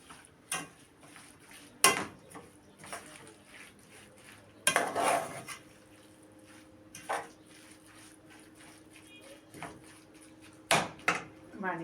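Eggplant and egg mixture turned together in a tray, quiet intermittent clinks and knocks of utensil against the tray spaced over the stretch, with low background hum between them.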